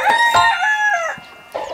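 An egg-laying hen on a small chicken farm in Hawaii gives a few loud, drawn-out calls in quick succession, close by, with no talking.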